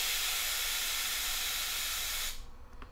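A canned air duster fires a steady, loud hiss of compressed air through a straw into a 4x4 puzzle cube, blowing continuously and then cutting off sharply near the end.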